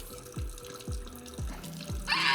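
Cold water runs from a newly plumbed tap in a shed, with a series of four evenly spaced low thumps and a rising splash of water into the sink at the end.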